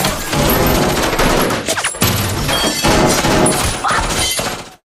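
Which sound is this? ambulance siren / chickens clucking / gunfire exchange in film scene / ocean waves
gunfire exchange in film scene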